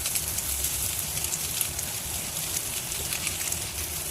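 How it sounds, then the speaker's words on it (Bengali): Fish pieces fry in a pan seasoned with cumin powder, giving a continuous close hissing sizzle that stays steady throughout with no talking. "এবার আমি মাছগুলোকে দিয়ে দিচ্ছি।"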